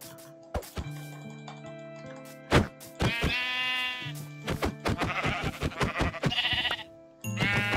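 Several sheep bleat in the video game Minecraft, a scattering of short, close bleats with pauses between them, alongside a ticking sound and no talk.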